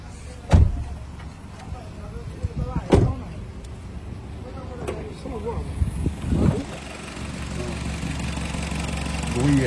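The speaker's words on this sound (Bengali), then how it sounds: "দেখেন স্টার্ট দিচ্ছে গাড়িটা, সাউন্ডটা দেখেন" A 2013 Hyundai Sonata with automatic transmission starts up and settles into a steady low engine idle, with a few sharp clunks along the way and people talking nearby over the running engine.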